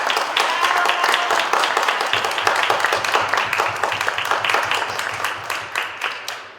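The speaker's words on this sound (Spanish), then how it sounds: "Le pido un muy fuerte aplauso a la maestra Marina Torres Vallecillo." Lecture audience applauds steadily, dense clapping from a hall that stays even in level and tapers slightly toward the end.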